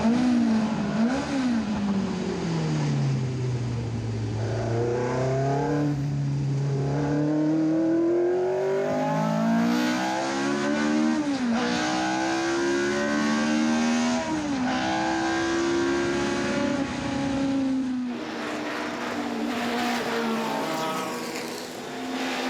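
A March prototype race car passes at speed during the Spa-Classic historic meeting at Spa, its engine note loud and sweeping up and down through gear changes, sustained throughout with no talk.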